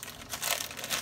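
A plastic bag crinkles as cornbread is wrapped in it, a soft close rustling that swells and fades over a second with no talk.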